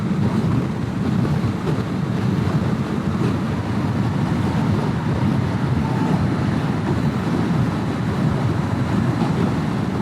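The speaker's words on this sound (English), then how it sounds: "Yeah, that rear tire is splashy." Yamaha FZ6R motorcycle riding on a wet road with its underinflated rear tire splashing, a steady, dense wash of spray and wind rush that stays loud and constant throughout.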